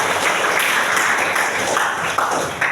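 Hand clapping from a classroom clapping game, a dense continuous patter of many children's claps with a few louder accents, close and steady, with faint voices mixed in.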